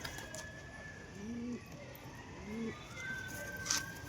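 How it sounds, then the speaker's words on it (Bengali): A female domestic pigeon at home coos softly, two low throaty coos spaced a second apart, close by over faint background hum. "এটা আমার বাড়ির কবুতর, অনেকেই চিনে, মাদি কবুতর"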